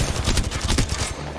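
Rapid automatic gunfire bursts out in Apex Legends, a close, loud rattle of shots in quick succession that fills the brief moment.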